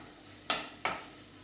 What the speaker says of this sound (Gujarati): ગાજર આપણા થોડા સોફ્ટ થાય ત્યાં સુધી એને સાંતળવાના છે.